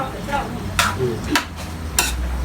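Meat being stirred in a pot while cooking Thai kaeng khae curry, with a few distinct scraping and clinking strokes of a utensil against the pan, spaced roughly evenly, over a faint low background.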